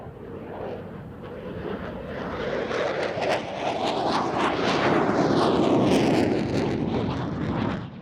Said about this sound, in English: The F-16's again into the vertical, carrying out a Cuban 8.